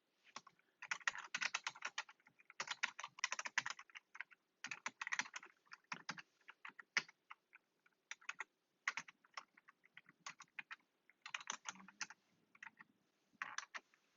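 Code being typed on a computer keyboard: quiet, close keystrokes clatter in quick irregular bursts separated by short pauses, with no one talking.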